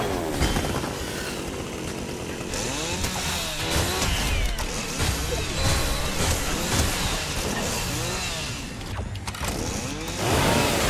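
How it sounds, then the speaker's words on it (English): A chainsaw revs in Fortnite during the Fortnitemares 2024 Halloween event, a steady buzzing drone running the whole time amid busy game noise and scattered mechanical clatter. "There's another chainsaw."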